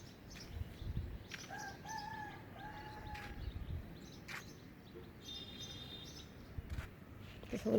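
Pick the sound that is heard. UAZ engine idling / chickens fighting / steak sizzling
chickens fighting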